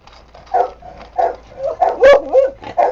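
Several dogs at a dog hotel give short barks and yips in an irregular series, close and fairly loud, with one higher whimpering yelp among them.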